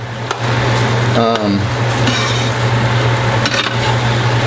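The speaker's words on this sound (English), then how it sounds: "So just keep stirring this around, man." Food cooking in a pan is stirred with a utensil, giving scraping and clinking scrapes over a steady sizzle and hum, with a few sharper metallic taps.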